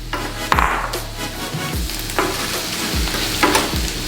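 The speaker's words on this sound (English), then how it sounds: "Are we ready for sauteed mushrooms? Why does sizzle get you happy?" Mushrooms sautéing in a hot pan, a continuous close sizzle and crackle broken by several sharp stirring scrapes and knocks of a utensil against the pan.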